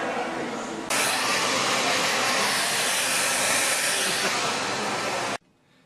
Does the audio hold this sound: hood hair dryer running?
yes